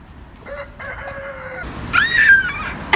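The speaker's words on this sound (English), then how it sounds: "We found chickens outside the chicken place." Chickens are heard outdoors close by, with a rooster crowing in a long rising and falling call after several shorter clucks and squawks, all loud and free of talk.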